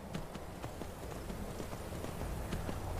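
A horse's hooves clip-clop steadily in Skyrim, a quick even rhythm of soft thuds heard alone at moderate distance over a low ambient bed.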